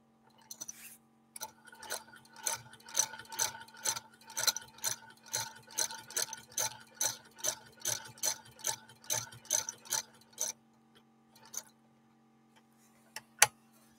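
A 1948 Frister & Rossmann sewing machine stitching material with a stiffener added, giving a quiet, rapid run of even mechanical ticks that stops, followed by a couple of isolated clicks.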